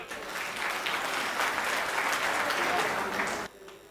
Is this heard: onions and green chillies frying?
no